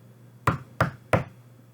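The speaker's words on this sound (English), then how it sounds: "I knocked on the door." Three sharp knocks on a brick house's door, evenly spaced about a third of a second apart, close and crisp over a faint low hum, with no voices.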